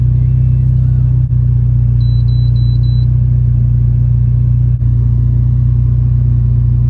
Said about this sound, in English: I'll go to 3 grand in third gear and you can see the boost feels nicely